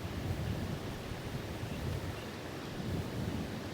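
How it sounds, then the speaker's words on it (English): Heavy wind blowing across a golf course, a steady, dense roar of gusting air buffeting the microphone for several seconds, with no talk heard. "wind's blowing"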